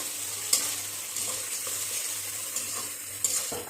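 Milk cream being stirred into a simmering potato, brinjal and fish curry in a pan, with a steady soft sizzle, a few sharp spoon scrapes and clinks against the metal rising above it.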